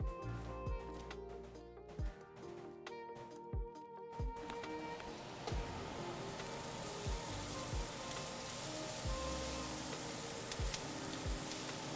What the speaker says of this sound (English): I can hear the sizzle.